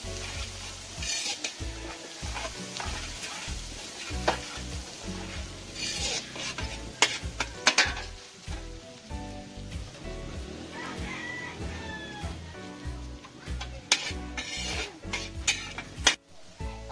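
Garlic sautés in a pan for pork menudo, a soft steady sizzle broken by frequent clinks and scrapes of a spoon stirring against the metal, close and fairly quiet.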